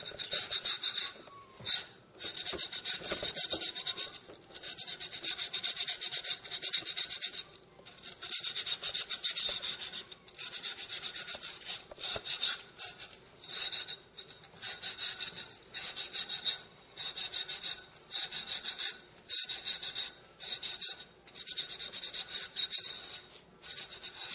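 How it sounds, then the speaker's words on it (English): Silicon carbide cloth rubbed along the cut edges of a glass bottle makes loud, close, raspy scraping strokes in rapid back-and-forth bursts, with brief pauses between runs and no talking. "take a little cloth, a silicon carbide cloth, and just go along the edges of it"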